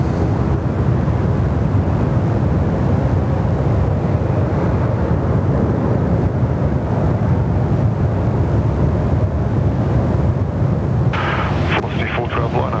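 A jet aircraft roars on runway 34 left at Sydney Airport, a loud, steady broadband rumble that fills the whole stretch before easing slightly near the end.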